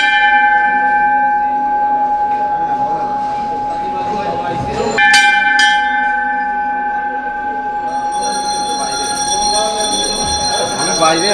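Metal temple bell struck at Rokka Kali Mandir, a Hindu temple in Old Dhaka, giving a loud ringing clang with a sustained tone. It rings out over busy street noise and a persistent steady hum.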